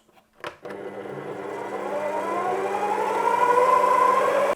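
Electric mixer whirring steadily through cupcake batter with added milk, starting after a brief clunk and holding a constant motor drone that grows slightly louder, close and alone.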